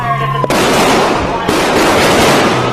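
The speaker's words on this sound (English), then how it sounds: "It looks like an exchange of gunfire right out of a Hollywood action movie." A loud exchange of gunfire from a police shooting inside a luxury hotel: a sudden burst of rapid cracks and booms starts after a brief tonal hum and continues nearly without pause, with a second surge midway.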